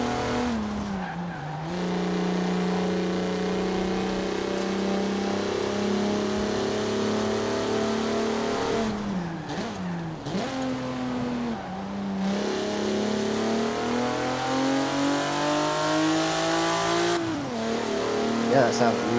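A Mitsubishi car engine in the racing game Forza Horizon 4 revs and shifts through gears with rising and falling tones and some tire squeal, while someone talks over it.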